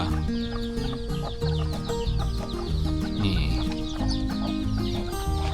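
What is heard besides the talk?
fighting-breed chickens clucking on a Thai farm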